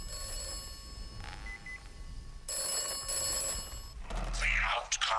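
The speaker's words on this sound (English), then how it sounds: "Oh, I thought the phone was ringing." A telephone rings in the video game Atomfall, a short electronic trill followed by a louder, sustained ringing with tones and game sounds behind it.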